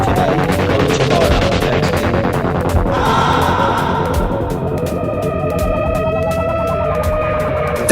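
A rushing, whooshing train effect played on electric guitar for Pink Floyd's On the Run, with a dense, roaring wash that thins into sustained tones, steady and loud throughout with no voices.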